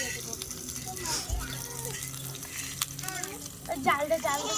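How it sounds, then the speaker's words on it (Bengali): Chopped onion and chilli frying in hot oil for khichuri, a steady close sizzle with occasional stirring clatter and a low thump partway through. "তেলটা গরম হয়ে গেলে পেঁয়াজ কুচি লঙ্কা কুচি"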